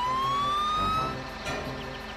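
Fire truck siren in the Tonka Rescue Patrol video game, a rising electronic wail over a rumbling engine and game sound effects, with no voices.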